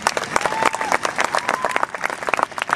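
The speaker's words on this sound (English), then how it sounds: "So I have an extra round of applause for Frank here." An audience at a live music show applauds Frank, a dense burst of clapping from the crowd lasting a few seconds, with a little voice mixed in.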